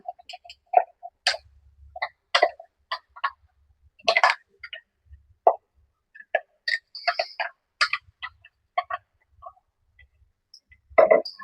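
Green spinach paste being worked into luchi dough by hand in a village kitchen, giving irregular soft squelching and tapping sounds, close and alone with no talk.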